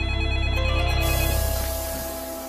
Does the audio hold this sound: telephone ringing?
yes